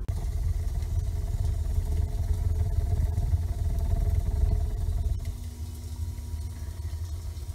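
An induced-draft wood burner fitted with a homemade flue blower gives off a steady, close, low rumbling roar with a throbbing, puffing pulse that eases slightly near the end, with no voices.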